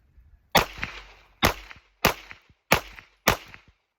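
Five sharp gunshots from a Glock-style pistol build firing Hornady Critical Duty 135 grain rounds, spaced at a steady, unhurried rhythm, each a loud crack with a brief decay, no talking.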